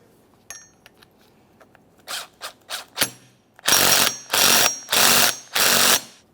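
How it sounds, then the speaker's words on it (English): A 14mm mounting bolt being tightened on the power steering pump bracket of a 2003-2008 Toyota Corolla: a few light clicks, then loud, close, evenly spaced bursts of ratchet wrench cranking. "Continue on with your 14mm headed mounting bolt. Start it in, snug it up"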